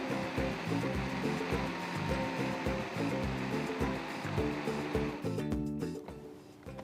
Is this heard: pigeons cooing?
no